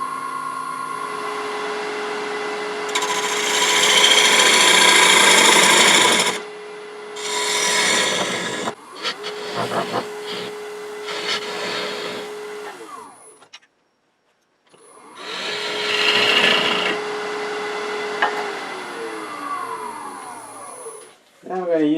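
Cross-grain wood lamp blank turning on a lathe from outside to inside, with a steady motor hum and tool rasping and scraping in several bursts of a few seconds, broken by brief pauses.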